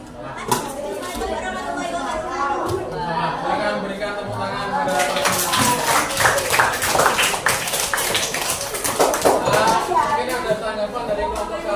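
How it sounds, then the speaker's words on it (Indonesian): Sixth-grade pupils in a classroom clap for a classmate's group; a short burst of scattered hand claps rises in the middle, mixed with children's chatter and voices throughout. "Silakan berikan tepuk tangan pada"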